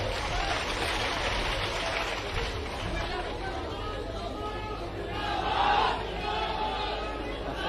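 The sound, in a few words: crowd applauding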